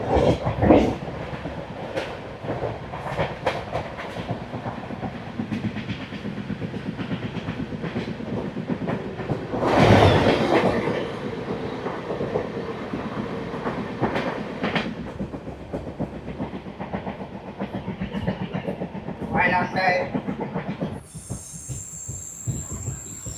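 A Sukhovi–Guwahati passenger train on the Assam line rolls past, wheels clattering and squealing continuously at close range, with a louder burst near the middle and fading clatter at the end.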